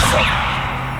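In Hogwarts Legacy, casting the Levioso spell gives a single short whip-like crack that trails into a fading magical whoosh.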